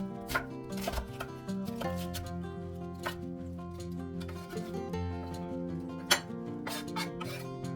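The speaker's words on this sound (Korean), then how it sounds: "양파 반 개를 믹서기에 갈 수 있게 썰어주세요." A knife taps rhythmically against a cutting board in quick, crisp chops, close up, slicing half an onion, over a faint background of music.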